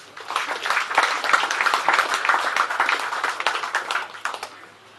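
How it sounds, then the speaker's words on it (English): A prize-giving crowd at a South Australian carp fishing championship claps for a winning team, with a lively, close burst of many hands that swells and holds, then tapers off near the end. "Just please give him a round of applause."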